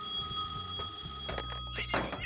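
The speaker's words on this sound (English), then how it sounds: "The phone rang." A telephone rings in a city office setting with a harsh bell tone over a steady background hum and some clattering, lasting a couple of seconds with no speech.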